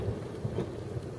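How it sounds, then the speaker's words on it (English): A thunderstorm rolls in with rain, heard as faint, distant low rumbling under a soft steady hiss, with no voices. "Uh-oh, here comes the storm."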